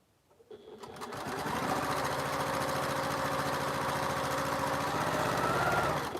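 A sewing machine runs steadily at speed as it stitches quilt pieces for a double carpenter's star quilt. A rapid, continuous mechanical chatter with no talk starts after a quiet half-second and holds loud to the end.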